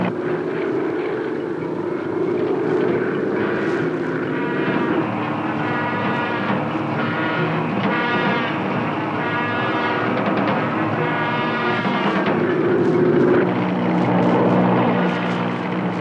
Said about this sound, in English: the plane is dropping lower